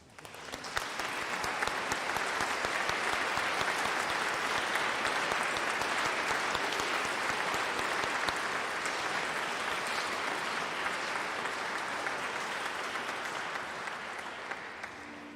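Steady applause from a church congregation at a Christmas Eve late-night service in Iceland, a dense, even clapping that stays loud for about fifteen seconds before easing slightly at the end, with no voices over it.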